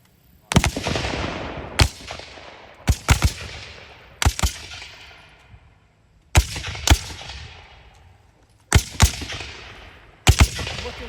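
Loud black-powder musket volleys at a Gettysburg Civil War reenactment, with about nine sharp booming shots fired in pairs and singles at irregular intervals, each trailing off in a long rolling echo across open ground.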